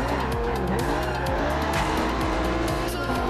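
Lamborghini in Forza Horizon 2 roars through a drive with sharp tire squeals and skidding, engine revving and shifting loudly and close throughout.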